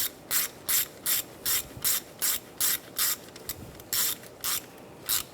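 A ratchet wrench tightens a nut on the valve cover of a 2007-2013 Mini Cooper, giving a steady run of about a dozen sharp, evenly spaced clicking bursts, close and alone.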